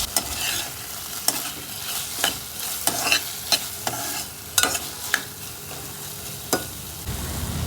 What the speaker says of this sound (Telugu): తర్వాత ఒక హాఫ్ స్పూన్ ఆయిల్ వేసి మిగిలిన టొమాటోస్ వేసేద్దాం. వీటిని కూడా బాగా వేగనివ్వాలండి.